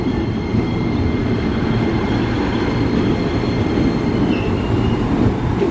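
A KRL Commuter Line electric train at Depok station gives a loud, steady rolling rumble with faint metallic wheel noise, continuous for the whole stretch and close by.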